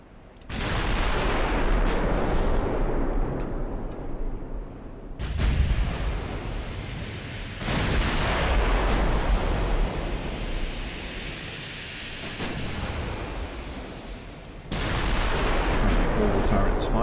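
Battleship turrets with 15-inch guns fire in the naval game Ultimate Admiral Dreadnoughts: several loud, booming broadside blasts, each rolling off into a long rumbling decay, with a fresh salvo arriving every few seconds.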